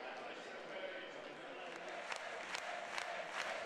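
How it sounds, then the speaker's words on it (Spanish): A distant crowd gives a nearly five-minute ovation at a political farewell, a sustained, dense wash of clapping with occasional sharper whoops rising over it. "Cerrada ovación de casi 5 minutos a Mariano Rajoy en su despedida"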